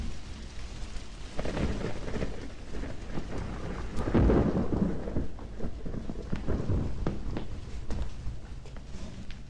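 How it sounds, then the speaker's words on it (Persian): Steady rain falls with rolling thunder. A loud rumble swells in the middle of the continuous downpour, and there are a few faint footsteps. "از بارون خوشم میاد"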